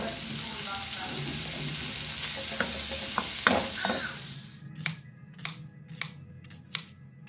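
Ground beef browning in a pan, a loud continuous sizzle with scattered utensil clicks that cuts off partway, leaving quieter sharp taps and knocks.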